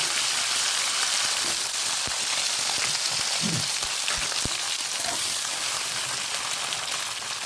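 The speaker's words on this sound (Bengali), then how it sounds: "এবার এই তেলেই ফুলকপিগুলো একটু ভেজে নেবো" Precooked, drained cauliflower florets frying in the oil left over from frying duck eggs: a steady, dense sizzle that fills the whole clip, with a few faint clicks and knocks over it and no talking.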